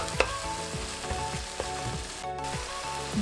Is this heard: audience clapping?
no